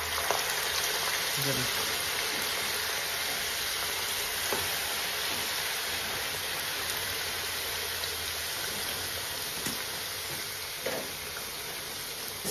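Potato french fries frying in hot oil at home, a steady close hiss and crackling sizzle running throughout, with a few faint clinks.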